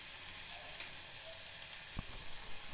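A coarsely ground amla (Indian gooseberry) mixture with turmeric fries in a pan with a steady, close hiss of sizzling oil and a faint clink near the end.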